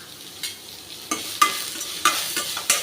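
Onion and green chillies frying lightly in a pan, a soft steady sizzle broken by several sharp stirring scrapes and clicks, close up and alone.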